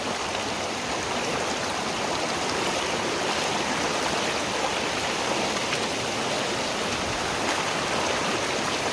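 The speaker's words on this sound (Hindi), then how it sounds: "देखिपार ऊपर पानी केमती झरझर होकर पड़ुची" Waterfall in Similipal National Park, Mayurbhanj, Odisha, with water cascading down in a steady, loud, broadband rush that holds unbroken throughout, heard alone without voices.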